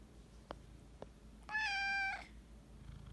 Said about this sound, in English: Some purr therapy for everyone